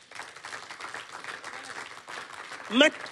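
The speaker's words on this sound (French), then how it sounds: "Alors acclame Jésus si tu es d'accord avec moi" A church congregation claps and applauds in a continuous patter during a sermon, fairly distant, with a voice rising briefly over it near the end.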